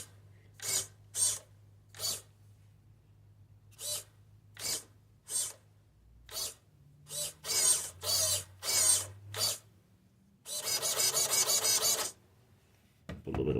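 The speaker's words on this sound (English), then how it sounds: "All right, here's the stock servo." A stock steering servo in a Vanquish Phoenix VS4-10 RC car whirs in a series of short, sharp buzzing bursts, about a dozen quick sweeps followed by one longer grinding run, close and isolated in a quiet room.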